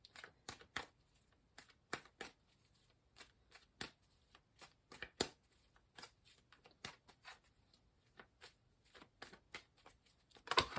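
Tarot cards are shuffled and handled up close, a series of quick crisp riffling snaps and soft flicks in irregular bursts, separated by quiet gaps, ending with a denser shuffle.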